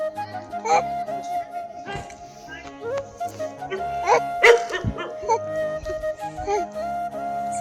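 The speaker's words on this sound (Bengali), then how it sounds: "কুকুরটা আমাদের সবাইকে দেখে ওরও ভুবু করে যাচ্ছিল" A dog barks at a group of people on a farmyard where ducks and a calf are kept, giving a few short yips and woofs mixed with other background sounds.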